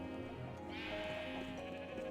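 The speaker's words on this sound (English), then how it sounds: "sheep" A Minecraft sheep gives a clear, close bleat that rises partway through and fades out, with no talking over it.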